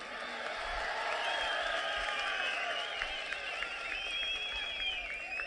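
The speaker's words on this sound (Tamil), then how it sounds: "ஓங்கி கைதட்டுங்க." A rally crowd claps and cheers steadily, a dense wash of applause with scattered whoops that holds at an even level throughout, with no pause.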